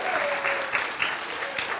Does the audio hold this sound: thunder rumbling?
no